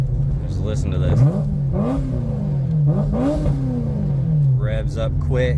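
A 1994 Ferrari 348 Spyder's exhaust revs up sharply several times, rising and falling with crackles and pops, loud and close, with bursts of talk over the engine.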